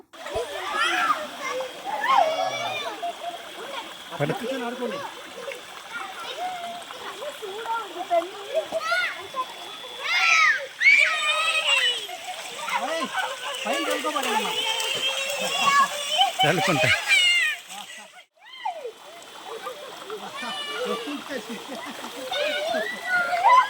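Children splash and play in the water at a waterfall, with excited kids' voices and shouting over intermittent splashing and a steady rush of flowing water.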